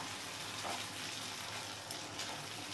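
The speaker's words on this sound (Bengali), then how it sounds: "এবার কষিয়ে নেব।" Masala with soaked cashews, raisins and melon seeds frying in a pan for egg korma, giving a steady, close, broadband sizzle that runs evenly throughout with no talking.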